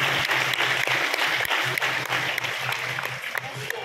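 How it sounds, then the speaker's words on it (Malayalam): Audience clapping for guests at a stage event in Kozhikode, a sustained crisp roar of many hands with a rhythmic low thump beneath and a voice speaking over it. "ഈ നിൽക്കുന്ന അതിഥികൾക്ക് ഒരു ആവേശപൂർവ്വമുള്ള കയ്യടി കോഴിക്കോടിന്റെ മുഴുവൻ ഹൃദയത്തിൽ നിന്നും ഉണ്ടാകണമെന്ന് അഭ്യർത്ഥിക്കുകയാണ്"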